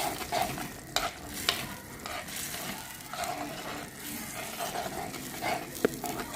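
Steady low sizzling and bubbling of a fried bitter gourd thokku mixture boiling in a pan, with a few sharp scrapes and clinks of a spoon against the pan.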